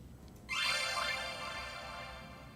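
A subtle transition effect in an electronic music mix sweeps in abruptly and then holds as a bright shimmering wash with layered tonal lines over a low rumble, gradually easing off in loudness.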